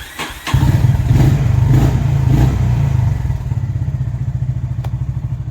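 A Honda CB350 RS motorcycle engine starts with a brief cranking clatter and a thump, then settles into a loud, close, steady idle. The pulsing beat thins slightly toward the end.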